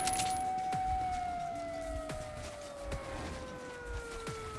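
An alarm siren wails in the video game Metro Last Light Redux, a steady tone that slowly sinks in pitch over several seconds, with sharp clicks and impacts cutting through beneath it.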